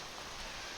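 Rain falling in Zelda: Tears of the Kingdom, a soft, even hiss of steady rainfall heard faintly and alone for a brief moment.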